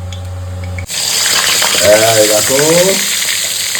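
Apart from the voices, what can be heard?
prawns frying in mustard oil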